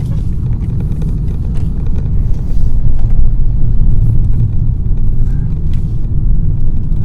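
Steady low rumble of a 2022 BMW 530i sedan's 2-liter turbocharged gasoline engine under acceleration, a loud, continuous drone heard from inside the car with road noise and no talking.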